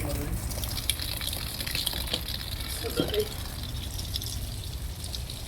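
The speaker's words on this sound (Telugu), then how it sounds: "ఇది మనం ట్యాప్ కాడ పెట్టుకొని ఇట్లా వాటర్ పెట్టాలి" Tap water gushes and sprays steadily while a car's AC is washed, a continuous splashing wash with a brief louder burst midway.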